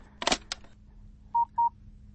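Two short, evenly spaced beeps of a telephone keypad being dialed come right after a brief voice, clear and close.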